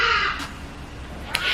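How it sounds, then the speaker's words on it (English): Crows caw outside a window next to someone sitting indoors, with one loud harsh call at the start and another near the end, over a steady background hiss. "I'm sitting next to the window, guys, so you're gonna hear a lot of these birds"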